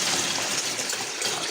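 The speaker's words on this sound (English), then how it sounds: "Put water in this" Water poured or run into a container for a homemade bread-to-cooking-gas setup, a continuous loud gushing splash with no pause and no talk.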